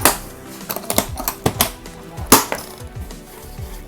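A hard case, new old stock with a key, having its stiff lid latches snapped shut one after another, giving a run of sharp close clicks and clacks, some louder than others.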